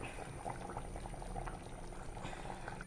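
Shark curry bubbling as it boils in a pot, a soft, continuous burble of popping bubbles heard faintly and steadily up close, with no talking.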